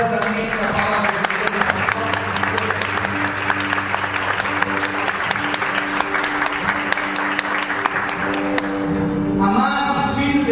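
A church congregation claps vigorously, a thick, continuous burst of applause with some sharp individual claps, over a faint sustained musical tone; a voice is heard at the end.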